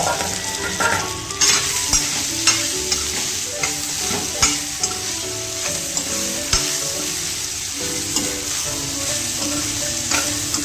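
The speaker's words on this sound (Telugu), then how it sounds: "ఇలా వేయించుకున్న తర్వాత ఏదైతే కట్ చేసి పెట్టుకున్న ఇడ్లీ ఉందో దీంట్లో యాడ్ చేసుకోవాలి" Cut idli pieces with turmeric are fried and stirred in a pan, a loud continuous sizzle broken by repeated scraping stirs and occasional light clacks of a utensil against the pan.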